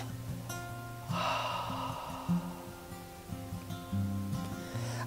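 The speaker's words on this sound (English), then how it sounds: "And then breathing out through the open mouth." A slow exhale through an open mouth during a guided breathing exercise: one soft, airy breath lasting about a second, set against steady, gentle background music.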